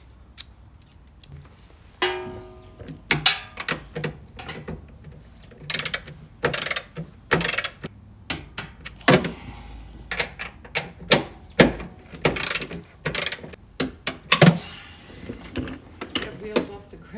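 A torque wrench ratchets exhaust hardware tight on a BMW E92 M3 with a Borla Atak system, giving bursts of sharp, close clicking strokes with short pauses between them over a faint background hum.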